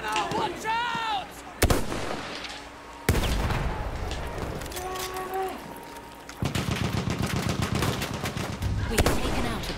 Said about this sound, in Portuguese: Machine gunner, watch out!